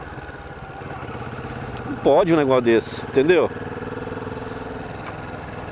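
A Kawasaki Vulcan S motorcycle engine runs at a steady low hum throughout, with a voice talking over it in the middle.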